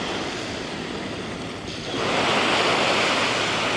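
Waves break and surge on a sandy beach with driftwood on the shore, heard as a steady loud wash of surf, with wind buffeting the microphone and the roar swelling stronger halfway through.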